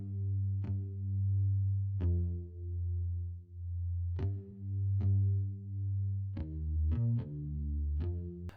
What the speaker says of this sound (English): So that's Rickenbacker bass